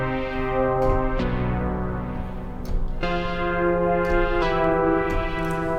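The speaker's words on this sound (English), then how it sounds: "So the sound that we're looking at is a Detroit garage sound," Detroit garage chord preset on a Diva synthesizer, a sequence of sustained, rich chords changing about every second or two, with bell-like attacks over a steady low bass, full and upfront with no voices.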